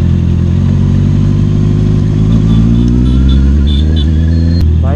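A motorbike rides over a potholed, rough road under construction, its engine a loud, close, steady rumble with slight shifts in pitch and no talking over it.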